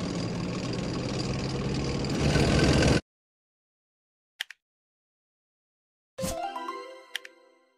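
A tank engine runs as a steady, rough rumble for about three seconds and then cuts off. Silence follows, broken by a couple of brief clicks and a short ringing chime.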